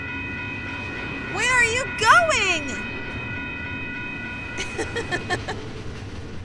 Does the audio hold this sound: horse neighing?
no